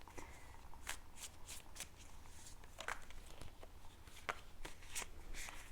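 Tarot cards being shuffled and drawn by hand: a steady stream of soft, close papery riffles and flicks with quick sharp snaps, continuing at low volume throughout.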